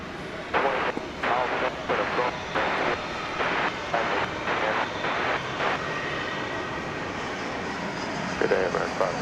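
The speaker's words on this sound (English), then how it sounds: "We're going to take a look at American 651 coming to us from the Valley of the Sun in Phoenix. This will be an Airbus A321." American Airlines Airbus A321 arriving at Dallas Fort Worth Airport at night from Phoenix, a steady jet engine rumble heard at a distance under a choppy, pulsing radio-like chatter, with people talking.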